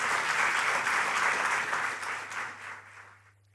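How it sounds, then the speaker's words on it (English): An audience at an event on entrepreneurship and opportunity gives warm, steady applause that holds briefly and then tapers off and fades out over a few seconds. "So please give them a big round of applause"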